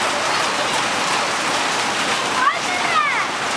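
Rain falls steadily after a hailstorm in Sheki, a loud dense hiss of drops and running water close by, with a voice briefly audible near the end.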